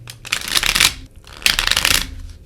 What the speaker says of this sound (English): Give her a few shuffles.